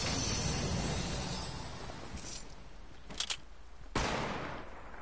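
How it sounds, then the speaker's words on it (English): Pistol gunfire in the Fortnite video game: a steady roar of in-game ambience, then two quick sharp shots close together followed by a louder single crack about a second later. "Someone got a pistol."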